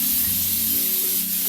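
Cooking spray hisses from an aerosol can in a steady, close, continuous burst, sprayed while making vanilla cupcakes.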